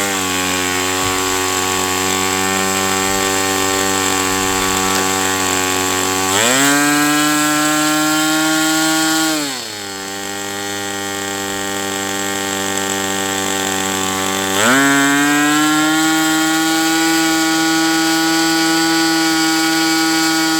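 A Magnum 65 GPSE model airplane engine runs with a 3-blade propeller, a loud, continuous buzzing drone that jumps up in pitch twice as the throttle opens and dips once in between.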